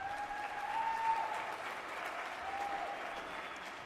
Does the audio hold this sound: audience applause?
yes